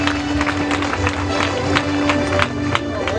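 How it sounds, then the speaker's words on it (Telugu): Loud applause from an audience at a church worship meeting and stone-laying gathering, steady dense clapping with crowd noise throughout, a sustained tone running underneath. "గట్టిగా చప్పట్లు కొట్టాలి"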